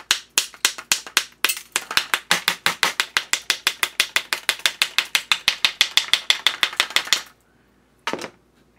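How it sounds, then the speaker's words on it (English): Screwdriver tapping on hardened potting compound inside a faulty electronic fluorescent lamp ballast: a rapid, steady run of sharp, close metallic clicks and taps, about forty strikes, stopping abruptly, then one last knock after a short pause. "Maybe if I hit it with the screwdriver or something, I can get a lot of this stuff to just kind of break off."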